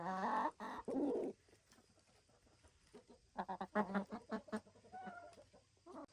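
Light Sussex chickens clucking and pecking while eating a piece of watermelon on a farm, with soft close bursts of clucks and a few quieter gaps between them.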